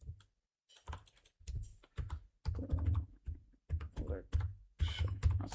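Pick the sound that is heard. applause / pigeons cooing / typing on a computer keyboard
typing on a computer keyboard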